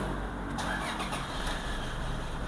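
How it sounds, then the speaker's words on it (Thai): A car engine starts up and settles into a steady idle with an HKS turbo timer fitted, a dense, loud, continuous rumble recorded close, with no talking. "นี่นะครับผมสตาร์ทรถนะ"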